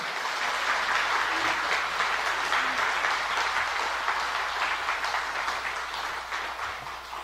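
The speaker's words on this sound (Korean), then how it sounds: "하나님께 영광의 박수, 그리고 우리 목사님께 경외의 박수 부탁드립니다" A church congregation applauds as the pastor comes forward, a full, sustained roll of clapping from many people that holds steady for several seconds before easing slightly at the end.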